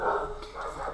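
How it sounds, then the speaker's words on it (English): Dogs bark in a quick flurry as cars arrive or leave, two or three sharp yaps packed into a second, fairly close and moderately loud. "the dogs are always barking when there are cars arriving or leaving"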